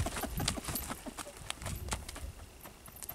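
Hooves of a young pinto horse clip-clopping while it is led slowly to a paddock, a steady run of close, sharp hoof strikes with faint ranch background and no speech over it.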